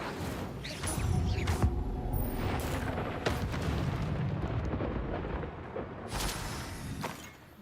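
Incendio fire spell cast in Hogwarts Legacy: a roaring, crackling burst of flame with sharp impact cracks, sustained and loud for several seconds before fading.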